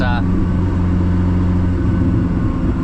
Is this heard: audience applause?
no